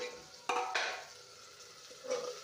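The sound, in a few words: stirring chickpea curry in a pan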